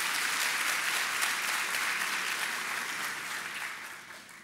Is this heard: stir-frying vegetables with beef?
no